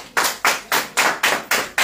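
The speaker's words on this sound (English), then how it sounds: "If you are there, clap your hands together." A church congregation claps in unison, seven loud, evenly spaced sharp claps in a steady rhythm, with no talk over them.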